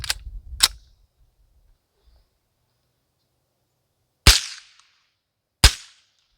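Four sharp rifle shots from an AR-15 fitted with a CMMG caliber conversion kit, fired at a 100-yard range: a close pair at the start, then two more single cracks after a long pause, each with a brief trailing echo.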